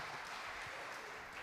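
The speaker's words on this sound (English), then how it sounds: "Let's give them a round of applause." Audience applause for a panel discussion at a conference, a continuous faint wash of many hands clapping, distant and even with no voices.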